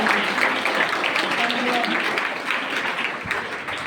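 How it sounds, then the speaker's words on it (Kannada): An audience at a community program gives sustained, dense applause that fills the whole stretch, with a voice speaking over it. "ನಿಮಗೂ ಕೂಡ ಚಪ್ಪಾಳೆ ತಟ್ಟಿ ಎಲ್ಲ ಅಕ್ಕನ ಬಳದ್ರಿ ಚಪ್ಪಾಳೆ"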